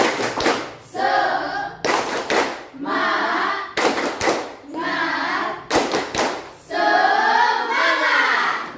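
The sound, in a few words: group spirit clap in classroom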